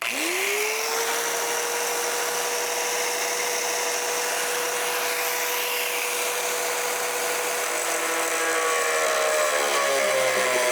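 An angle grinder cutting rusty sheet metal on a 1965 Thunderbird, spinning up to a loud steady high whine with a hissing grind that holds for about ten seconds and then winds down.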